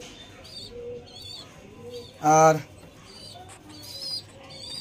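Leg-ringed pigeons cooing and calling in a loft, several soft coos and chirps spread across the clip, with a louder call in the middle, under steady talking.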